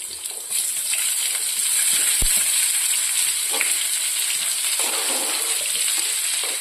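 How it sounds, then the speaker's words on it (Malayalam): Sliced onion and small shallots sizzle in hot oil in a pan, a steady bright crackling hiss close by, with a few stirring clinks and a brief knock partway through. "ഇനി നമുക്ക് ആ എണ്ണയിലേക്ക് തന്നെ ഇതാ നമ്മളിപ്പോൾ അരിഞ്ഞ ഒരു സവോളയും ആ ചെറിയ ഉള്ളിയും കൂടെ ആഡ് ചെയ്ത് കൊടുക്കാവേ."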